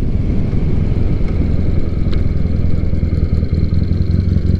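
A 2006 Triumph Bonneville cafe racer motorcycle rides down the road, its engine giving a steady, loud drone with a constant rumble and no pauses, and no one talks over it.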